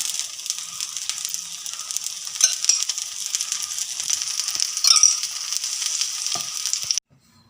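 Potato dosa frying on a hot pan in oil and ghee gives a steady, close sizzle with a constant hiss and a few brief crackles, with no talking, then stops abruptly near the end.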